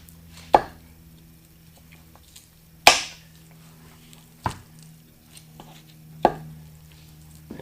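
A knife cuts down through the knee joint of a deer leg while it is being deboned, giving four sharp, close cracks spaced a second or two apart over quiet background, with no talking.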